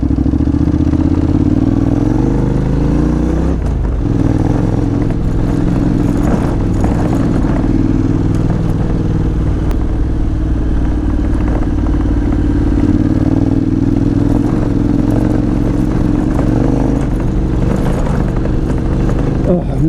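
A Honda NC750X motorcycle with a 17-inch front wheel rumbles loudly and steadily over a corrugated dirt road, its engine drone mixed with rattling clatter and thumps from the rough surface.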